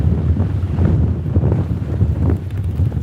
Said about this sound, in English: It's very wet, windy